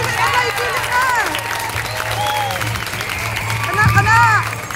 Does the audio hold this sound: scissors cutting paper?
no